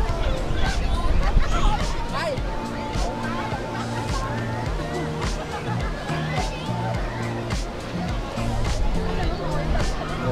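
A packed weekend beach in Vũng Tàu fills with dense crowd babble, with overlapping voices of adults and children and a steady wash of chatter close by.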